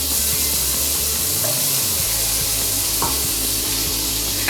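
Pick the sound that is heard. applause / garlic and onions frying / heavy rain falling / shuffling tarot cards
garlic and onions frying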